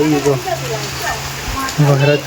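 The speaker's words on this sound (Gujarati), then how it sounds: "હવે વરસાદ ચાલુ થઈ ગયો" Steady evening rain hiss fills the background during a power cut while people talk over it in close, conversational voices.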